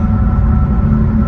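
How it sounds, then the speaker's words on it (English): A Jaguar F-Type R rolls over concrete pavement, making a steady, loud cabin road roar with heavy low rumble and constant tyre drone, no breaks and no voices. "So the concrete pavement, you hear the difference clearly."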